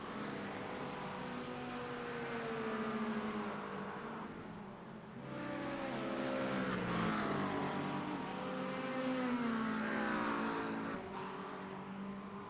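Sportscar engines race at Road Atlanta in the iRacing simulator, heard as continuous revving engine tones that rise and fall through gear changes. The sound is steady and fairly loud, with no talking.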